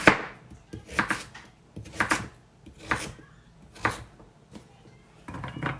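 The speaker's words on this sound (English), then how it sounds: "I already peeled it, so I'm just slicing them, putting in my baking dish." Peeled vegetables sliced with a knife on a board, giving a series of about seven separate crisp chopping thuds at an uneven, unhurried pace, close and fairly quiet.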